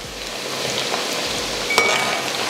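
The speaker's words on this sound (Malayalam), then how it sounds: "നമുക്ക് ഒന്ന് ജസ്റ്റ് ഒന്ന് ഇളക്കി കൊടുക്കാം" Ivy gourd frying in oil with masala is being stirred, giving a steady close sizzle with one brief scrape of the spoon across the pan partway through.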